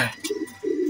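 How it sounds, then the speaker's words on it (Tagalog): Pet pigeons give two soft, low coos close by, with a brief higher chirp between them, in a quiet spot with no talk. "Oo na itong mga ibon natin."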